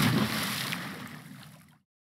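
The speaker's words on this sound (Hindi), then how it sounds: "वो चिल्लाया और नदी में कूद गया।" A splash into a river in a cartoon story about a monkey and a lion, heard as a single close watery slosh and gurgle that fades out over under two seconds.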